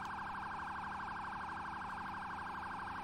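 A fire truck siren wails loudly and continuously, rising and falling steadily, close by, with no voices.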